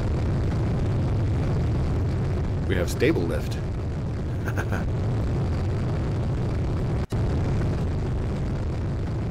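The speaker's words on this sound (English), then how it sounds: "We got jet engines. Oh, it's kind of loud." Jet engines on a player-built aircraft in the Roblox building game roar as a steady, loud, broadband rumble throughout, with a young voice talking briefly over it.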